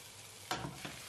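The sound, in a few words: minced beef frying and being stirred in pan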